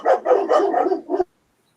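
A dog barks in a quick series of several close, loud yappy barks that stop abruptly, leaving silence.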